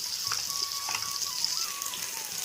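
Ginger garlic paste fries with onion and tomato in a pan for chicken pulao, giving a steady, dense sizzle that stays constant and close throughout, with faint small pops and a thin tonal whine underneath.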